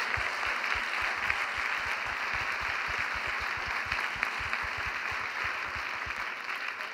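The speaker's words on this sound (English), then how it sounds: "let's everybody else applaud the people who have run for office" Steady applause from an audience at a public talk on putting America back to work, an even wash of many hands clapping throughout with no voices over it.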